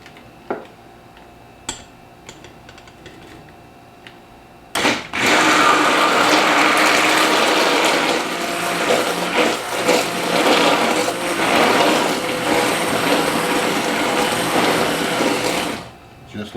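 Milk, eggs and Frank's hot sauce get whisked in a bowl, producing a fast, continuous clatter of utensil against the bowl for about eleven seconds after a few isolated knocks, with no talking heard.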